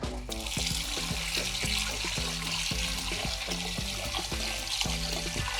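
Steady rushing water pours over sliced potatoes as they are rinsed for homemade chips, a continuous hiss heard over rhythmic background music.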